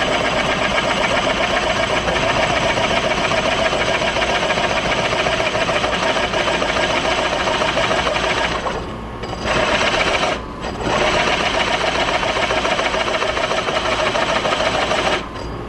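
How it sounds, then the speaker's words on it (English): J. A. Vance planer/matcher running with a slipping belt, a loud, dense, continuous mechanical whir and rattle held close for about fifteen seconds, briefly dipping twice near the end. "So my belt's slipping."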